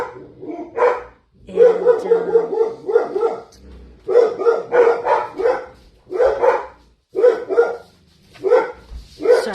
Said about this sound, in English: I think that's why my dogs are barking.